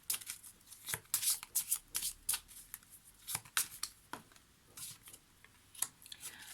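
Lenormand oracle cards being shuffled by hand, a close, quiet run of papery riffling bursts and flicks in irregular clusters, with no talking.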